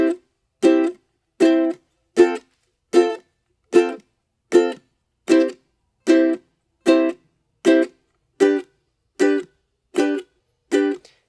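Ukulele strumming evenly spaced single chords without dead notes, each ringing briefly before a short gap, about a dozen strums at a slow steady pace, close and alone.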